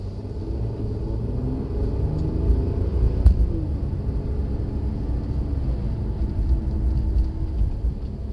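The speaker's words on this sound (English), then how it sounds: "with the ABS trying its hardest to try and stop us" A Mercedes braking hard on a black-ice road with the ABS working, a continuous low rumble of tyres and chassis that swells slightly midway, steady and close, with no talking.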